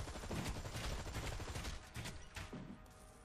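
Rapid bursts of gunfire and impacts from Hawkeye fighting enemies in the action game Marvel Heroes, a dense, crackling volley of shots that fades slightly toward the end, quiet in level.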